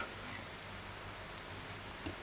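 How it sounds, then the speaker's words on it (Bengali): Rain falling outside, a faint, even patter of drops on surfaces heard at a distance, steady and unbroken for a couple of seconds. "আর বৃষ্টি হচ্ছে বাহিরে,"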